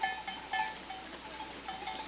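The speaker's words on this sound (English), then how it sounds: "As he's eating, he's just ringing his bell." Cowbells clank softly and irregularly over a quiet outdoor background, a few metallic rings a second as a grazing cow shifts while eating, in Asker, Norway.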